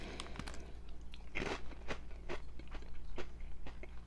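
Crunchy Cheetos snacks being bitten and chewed up close, a string of sharp, irregular crackling crunches of varying loudness with no talking.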